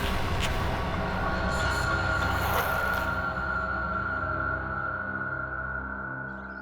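A train runs along the railway with a steady rolling rumble of wagons and a sustained metallic squeal, loud and close, easing slightly toward the end.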